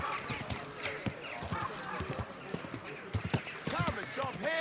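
Horse hooves clip-clop in a steady rhythm while riding through a busy medieval town in Kingdom Come Deliverance 2, with loud shouting voices and crowd chatter over the hoofbeats.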